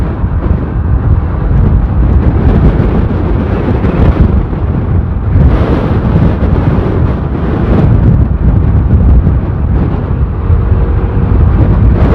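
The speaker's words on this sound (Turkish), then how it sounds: "Çok rüzgar var." Heavy, constant wind buffeting the microphone while riding a SYM 200cc motorcycle, a loud roaring rumble that surges and eases throughout without a break.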